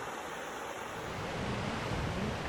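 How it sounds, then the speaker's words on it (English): A river rushes far down below on the slopes of Lafayette, a soft, steady, distant roar of flowing water with no voices. "Down below, water rushing."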